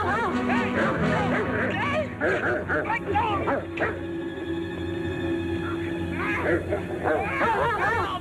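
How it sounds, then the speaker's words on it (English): A collie barks and yips repeatedly at moderate distance in an outdoor scene, mixed with whimpering, while people talk over it in a mid-century television broadcast recording. "It's that collie again."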